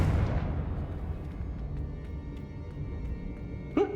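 A Confringo spell explosion in the video game Hogwarts Legacy, a heavy booming blast at the start that decays into a long rumbling tail with faint scattered crackles.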